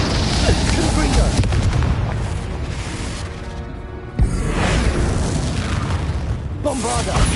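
Bombarda explosion spells booming in Hogwarts Legacy combat, loud deep blasts repeating over a continuous rumbling fire-and-battle din, with brief in-game shouting between bursts.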